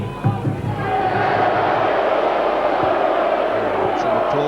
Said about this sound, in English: Some applause for the Portuguese.